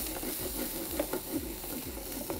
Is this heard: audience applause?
no